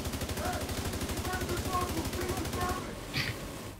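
Sustained rapid automatic gunfire in the video game Tom Clancy's The Division 2 during a raid, steady pulsing shots for about three seconds before cutting off, with voices talking underneath.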